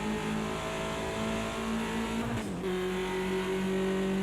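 A BMW 2002 Turbo racing at Bathurst in Project CARS 2 holds a loud, steady engine drone, dips sharply as it shifts gear, then settles into a higher sustained tone.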